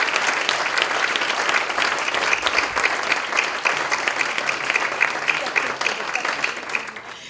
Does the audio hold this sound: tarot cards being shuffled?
no